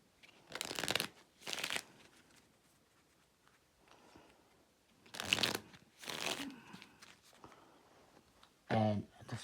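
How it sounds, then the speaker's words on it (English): Playing cards shuffled for the Pikit card game, with several short riffling bursts spread across the stretch and quiet pauses between them, close and fairly soft. "So I'll shuffle up the cards a little bit here,"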